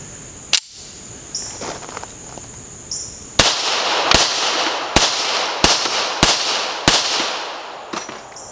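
Pistol shots from a Dan Wesson 1911 at a range, one early sharp crack followed after a pause by a steady series of about seven loud, evenly spaced reports, with faint clicks between.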